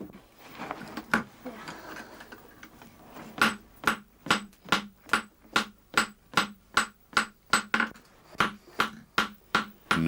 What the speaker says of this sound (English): The smith hammers the iron into shape on a tiny anvil.